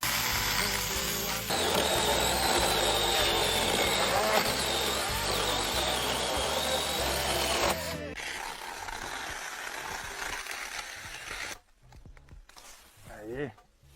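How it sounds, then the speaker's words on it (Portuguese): A small handheld mini chainsaw running at full throttle for several seconds, a loud steady buzzing whine, then cutting out and leaving quieter rustling and handling noise with faint voices. "Comprei essa mini motosserra."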